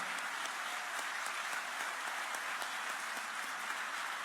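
Steady applause from an audience at a municipal legislative session opening in Mercedes, a dense wash of clapping held at an even level for about four seconds with no voices over it.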